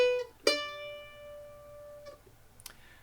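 A couple of bright plucked mandolin notes from the melody of 'Angeline the Baker', played in quarter notes, ring out and decay slowly, sparse and fairly quiet, with a faint pluck near the end.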